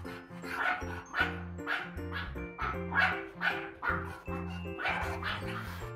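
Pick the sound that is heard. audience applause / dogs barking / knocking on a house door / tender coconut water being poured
dogs barking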